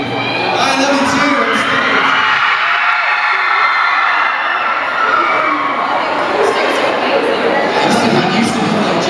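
A large crowd at a cast Q&A tour stop in Chicago cheers and screams loudly and without a break, with high shrieks and whoops layered over a steady roar.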